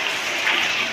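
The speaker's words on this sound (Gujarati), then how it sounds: "તાળીનો ગડગડાટ યથાવત રહેવો જોઈએ" Audience applause at a welcome ceremony where trustees are presented with books, a brief, even roar of many hands clapping at steady loudness.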